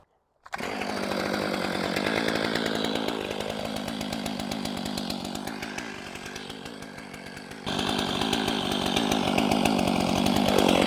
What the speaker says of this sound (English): We're going to fire up the 500i, let it warm up, and then we'll see how perfect of cuts I can make